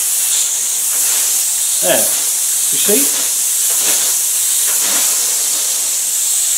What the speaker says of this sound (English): I've got it linked up to an airline, and it's got some thinners in this gun. So I'm going to try and spray it without spraying my camera.